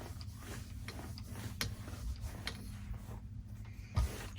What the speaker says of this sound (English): I'm going to continue sewing on my block